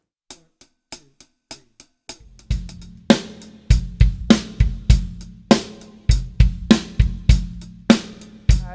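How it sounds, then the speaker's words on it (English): A drummer plays a hi-hat ostinato of light upstroke taps and sharper downstroke accents, starting as sparse, crisp ticks. A low drum pulse then joins in a steady, close, loud pattern. "And I'm coming up with an upstroke tap, and then a downstroke accent, upstroke tap."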